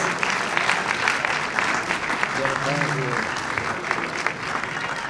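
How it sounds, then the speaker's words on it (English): An audience at a gala celebration breaks into warm, sustained applause, dense and loud, while a voice briefly speaks over the clapping midway. "Ladies and gentlemen, a warm round of applause for Christoforos Papagaliatis."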